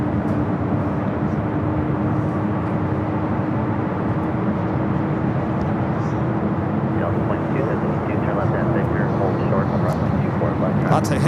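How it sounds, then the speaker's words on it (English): An Air China Boeing 777 comes in to land on runway 24 left at LAX, a loud, steady jet roar with a sustained engine whine, continuous throughout. "Air China 777 marching over here to 24 left."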